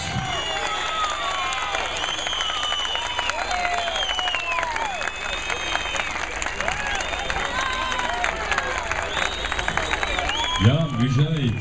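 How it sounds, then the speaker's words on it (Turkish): Lively applause and cheering from a gathered crowd after a child's recitation, bright clapping layered with excited voices and chatter, ending in a short burst of nearby talk. "Alkış!"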